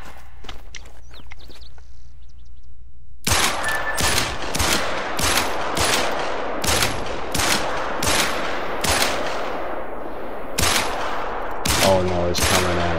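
A 10mm gun fires repeatedly while hunting in theHunter: Call of the Wild. After a few quiet seconds, about a dozen loud, sharp shots ring out in an irregular, rapid series, each with a short echoing tail.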